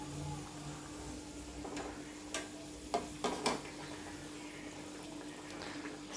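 Stuffed samosa rolls fry in hot oil on a low flame, a steady sizzle and bubbling, while a spoon stirs them gently with a few soft clinks and scrapes.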